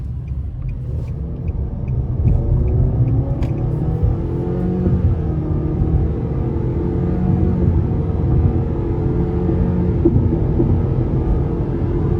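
A 2024 Nissan Sentra S with a 2.0 engine and CVT, in sport mode, accelerating onto an interstate, heard from inside as a steady drone with rising engine tone under road rumble, loud and continuous throughout.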